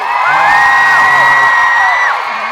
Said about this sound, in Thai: ขอเสียงกรี๊ดครั้งสุดท้ายให้โนเนลหน่อย